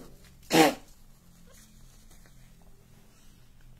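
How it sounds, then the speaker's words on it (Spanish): A single sharp human sneeze bursts out loud and close near the start, followed by quiet room tone. "Voy a estornudar, perdón."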